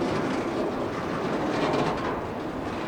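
A train of auto rack cars rolls steadily past close by, a continuous rumbling roar of wheels on rails with faint clattering throughout.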